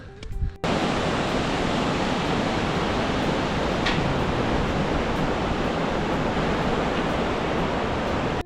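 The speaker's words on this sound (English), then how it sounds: "Cool waterfall." A Himalayan waterfall on the Annapurna Circuit roars in a steady, dense rush of white noise. It is broad and constant after a brief opening bump, with a faint wind-like texture and no voices.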